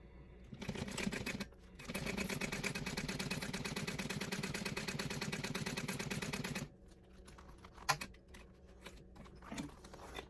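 A sewing machine stitches zipper tape in one continuous mechanical run of several seconds. A few fainter, shorter bursts of stitching come before it and after it.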